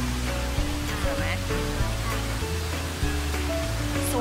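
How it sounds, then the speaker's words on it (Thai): A large indoor waterfall at Jewel Changi Airport mall in Singapore gives a constant close rushing roar, with mall music playing underneath and a voice talking faintly. "น้ำพุที่ใหญ่เป็นอันดับหนึ่งนะคะเป็นน้ำพุในอาคารเนาะนี่น้ำพุอะไรน้ำตกสิ น้ำตกนะ"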